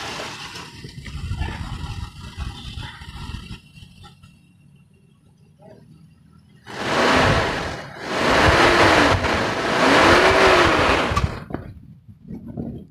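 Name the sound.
Toyota Kijang KF 52 1995 engine revving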